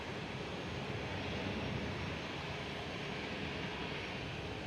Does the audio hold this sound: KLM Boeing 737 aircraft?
yes